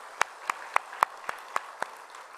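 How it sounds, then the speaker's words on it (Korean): A church congregation at a 31st-anniversary thanksgiving Sunday service gives scattered, sparse handclaps, about seven distinct claps spaced roughly evenly, fairly quiet and without talk. "우리 하나님께 우리 영광의 박수를 올려드릴까요"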